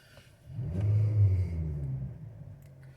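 A 2018 GMC Acadia SLE engine cranks and catches, swelling into a brief rev before settling to a steady low idle rumble, close by with no talk.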